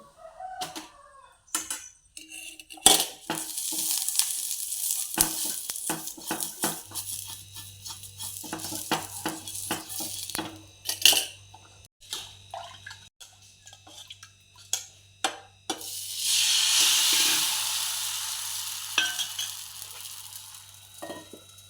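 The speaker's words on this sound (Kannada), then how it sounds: "ದೋಸೆ ಒಂದು ಸೈಡ್ ಫ್ರೈ ಮಾಡಿದರೂ ಸಾಕಾಗ್ತದೆ ಆದರೆ ನಾನು ವೆಜಿಟೇಬಲ್ಸ್ ಹಾಕಿರೋದ್ರಿಂದ ಅದು ಸ್ವಲ್ಪ ಫ್ರೈ ಆಗಲಿ ಅಂತ ಹೇಳಿ ಎರಡು ಸೈಡ್ ಬೇಯಿಸ್ತಾ ಇದ್ದೇನೆ" Ragi carrot dosa with vegetables fries on a griddle, giving a soft crackling sizzle broken by sharp clicks and scraping taps of a utensil, with a louder sustained hiss near the end; no talk.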